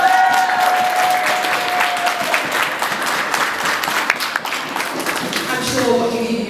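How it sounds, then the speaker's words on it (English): An audience at an evening stage event applauds for a performer, loud dense clapping mixed with crowd noise and cheering that holds steady throughout. "can we please get a round of applause for Letitia?"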